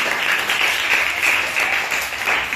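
Sixth-grade students clap together in a science classroom, a steady, dense burst of applause that runs unbroken for a couple of seconds at close range.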